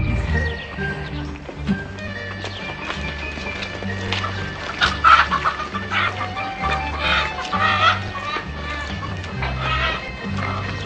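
A hen clucks in a busy marketplace scene, with short fowl calls recurring among voices, background music and general bustle across the stretch.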